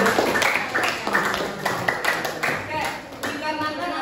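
Children in a classroom clap together in a quick rhythmic burst of repeated sharp hand claps, close and lively.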